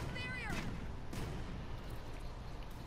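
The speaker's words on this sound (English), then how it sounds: "I've been loading these cannons and these ballistas so freaking much" Cannon fire in Monster Hunter: World, with booming, gunfire-like blasts in a busy game soundscape, partly covered by voice-like sounds.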